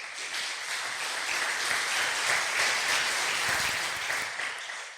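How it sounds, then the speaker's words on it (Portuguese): A church congregation breaks into applause, a soft, continuous patter of many hands clapping at low volume that holds steady throughout with no speech over it. "Aplausos para Jesus."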